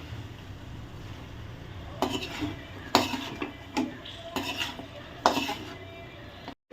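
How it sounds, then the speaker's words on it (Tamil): Mutton being sautéed and stirred in a pan with ginger and garlic for a Thanjavur-style goat curry, a spoon scraping and clanking against the metal in several distinct strokes over a soft background hiss. "அது கூடவே மட்டனையும் நல்லா ஒரு வதக்கு வதக்குவோம்"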